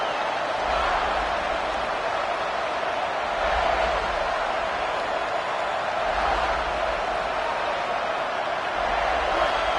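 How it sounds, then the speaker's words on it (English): A stadium crowd in College Football 27 roars in a dense, continuous wash of noise that swells slightly in waves and never lets up. "This crowd bringing an ear-splitting welcome to their visitors."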